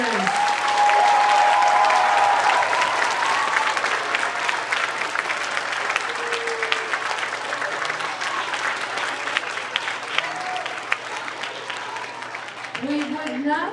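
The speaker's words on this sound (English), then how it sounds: "A big round of applause to our fourth graders." An audience at an elementary school Veteran's Day concert applauds fourth grade students, with sustained, dense clapping lasting over ten seconds and a faint voice briefly heard near the start and end.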